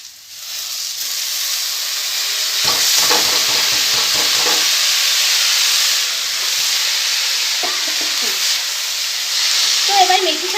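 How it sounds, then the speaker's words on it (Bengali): Lentils sizzle loudly in a hot pan on a rooftop while fenugreek leaves are added, with a steady hiss under bursts of scraping and stirring clatter in the middle and again near the end. "আর একটু ভেজে নেব আর এর মধ্যে ততক্ষণ আমি মেথি শাকটা দিয়ে দেবো"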